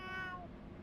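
A voice imitates a cat's meow, a single short falling tonal call at low level over a steady background rumble, heard during a six-hour endurance race at Watkins Glen.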